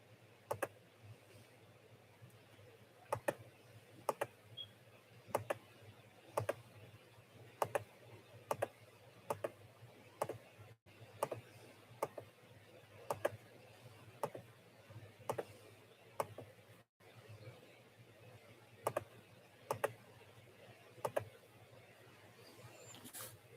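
Sharp clicking from a digital art tablet pen, frequent irregular taps in quick bursts and short clusters over a low steady background hum, with no talking.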